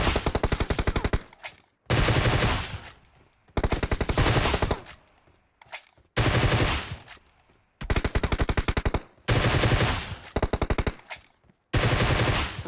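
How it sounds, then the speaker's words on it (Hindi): Rapid automatic gunfire in PUBG Mobile comes in about six long, loud bursts, each a dense rattle of shots separated by short silent gaps. "आपस में हम ऐसी गोली चलाएंगे और आखिर में गोली उस पे चलेगी"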